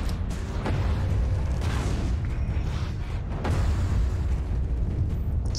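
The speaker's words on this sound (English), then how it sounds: "Stop with this shooting." Gunfire and blasts in the PC game Alice: Madness Returns during the Garden Party level, heavy booming explosive shots repeating over a continuous low rumble, fairly loud and with no talking.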